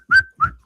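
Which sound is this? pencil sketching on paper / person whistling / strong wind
person whistling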